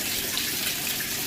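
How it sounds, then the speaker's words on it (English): Water rushes steadily into a Kenmore washing machine drum on a large, fast fill cycle, a close, even hiss with no voices. "that it does in fact fill up with water like it's supposed to"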